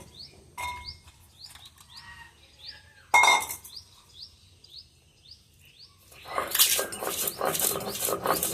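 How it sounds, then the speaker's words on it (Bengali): Dried chillies are ground on a stone for taki fish bhorta, heard as loud, rough rhythmic scraping near the end, after scattered clinks of utensils, with birds chirping softly in the background. "এখন শুকনো মরিচগুলো বেটে নেব"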